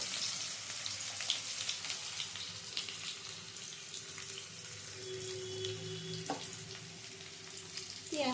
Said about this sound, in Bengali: এবার পেঁয়াজটা ভেজে নেব